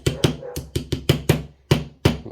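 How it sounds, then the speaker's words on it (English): A pet dog barks at the door indoors, a string of about eight sharp, loud barks in an irregular rhythm, close by and with no talk over them. "That's my dog's barking, thinking somebody's at the door."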